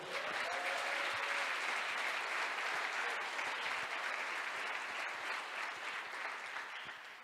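Church congregation applauding during a sermon, a dense sustained wash of clapping from many hands that fills the room and slowly tapers off toward the end.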